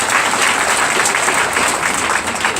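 Steady, dense applause from an audience in a political assembly hall, honoring party deputies and local mayors; continuous clapping at an even level throughout, with no voices above it.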